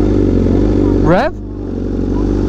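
A BMW M1000RR motorcycle running on E85 fuel, its loud, close engine idling roughly before one sharp rev that rises and drops away, then settling back to a steady idle.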